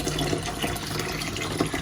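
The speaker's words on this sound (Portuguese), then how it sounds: "a minha ajudante tá me ajudando aqui a lavar o arroz" Tap water runs steadily while rice soaked for four hours is washed for a rice cake, a close, continuous splashing rush with no voices.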